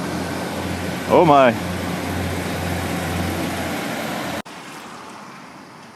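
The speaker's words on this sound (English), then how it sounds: "Listen to that nice 1960s diesel engine." A 1960s diesel train engine departs from a British station in Burnley, a steady low rumble and drone running loud throughout, with a brief exclamation from a voice near the start.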